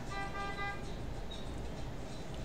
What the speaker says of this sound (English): Beep, said the friendly little blue truck.